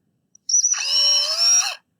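A drill bores through a firmly held metal piece for tapping holes. It makes a single high-pitched whine that lasts just over a second, close and loud, then cuts off abruptly.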